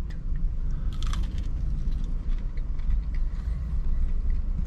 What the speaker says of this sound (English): Crunchy chicken.